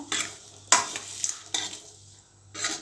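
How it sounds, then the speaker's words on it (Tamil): Eggs frying in masala in a pan, a soft steady sizzle broken by several sharp scraping stirs of a spatula against the metal, close and clear with no talking. "இந்த மாதிரி முட்டையை நல்லா ஃப்ரை பண்ணி எடுத்துக்குவோம்."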